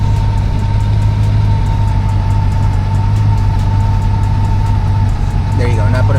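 A supercharged Chevrolet Corvette C8 idles steadily on a dyno with a low constant drone and a faint whine, loud and continuous throughout, while people talk over it briefly near the end.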